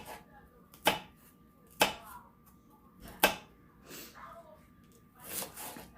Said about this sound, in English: I might actually cut up the rest of this onion small like this